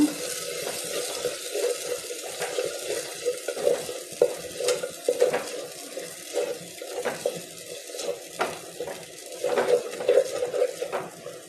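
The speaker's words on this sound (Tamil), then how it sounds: "இப்போ இதை நல்லா கிளறி விட்டுடலாங்க" A spoon scrapes and stirs steadily inside a clay pot of tomato dish, with soft liquid sloshing and a faint sizzle underneath.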